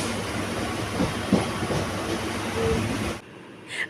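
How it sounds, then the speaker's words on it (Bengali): A train runs steadily on its rails, a close, continuous rumble and rattle from inside a nearly empty carriage, with faint clicks over the track before the sound drops away abruptly near the end. "আজকের ট্রেনটা কিন্তু একদম খালি"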